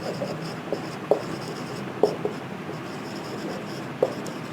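Chalk or marker scratching across a board during an accounting lecture, with soft continuous scraping broken by a few sharp taps at irregular moments, close and fairly quiet, with no speech.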